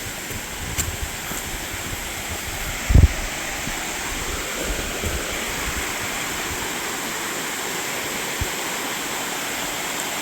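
A big waterfall in Odaesan National Park, South Korea, roars as a dense, steady wash of rushing water, close and unbroken, with a couple of faint bumps against the microphone.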